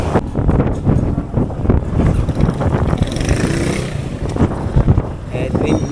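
Gusting headwind buffets the microphone in loud, uneven rushes, with low rumbling bursts, during a fixed-gear bicycle ride uphill.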